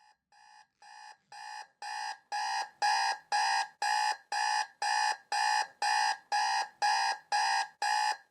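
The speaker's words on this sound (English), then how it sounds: "I can hear the buzzing of my alarm go off." An alarm clock buzzes in the visual novel Kimochii Classroom with a fast, even run of electronic beeps that swells louder over the first few seconds and then holds steady, heard alone.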